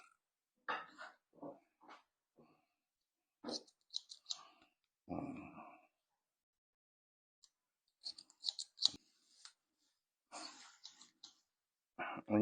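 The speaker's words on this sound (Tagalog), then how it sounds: "Matalas ang mga gunting." Sharp hairdressing scissors snip through hair during a haircut of an older woman, giving short, crisp clicks in scattered bursts with quiet gaps between, close to the ear and fairly faint.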